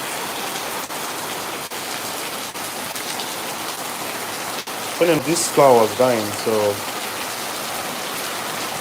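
Steady rain pattering on surfaces throughout, with a person speaking briefly over the downpour partway through.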